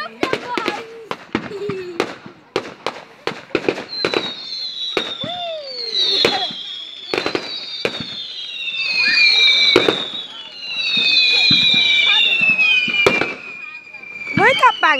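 Fireworks go off in a rapid series of sharp bangs, with rising and falling whistling rockets screaming overhead, while people talk and react in between.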